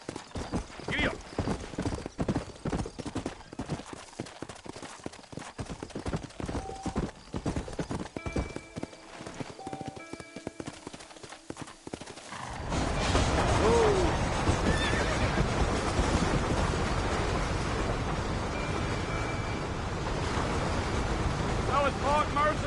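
Horses trotting and neighing in Red Dead Redemption, hooves clopping steadily with occasional whinnies, first under game dialogue and music, then joined by a louder wash of waves and water for the second half.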